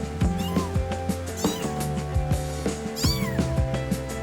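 Young kittens about four weeks old meow while play-fighting, with repeated close, loud mews and rising and falling cries overlapping one another, amid scuffling.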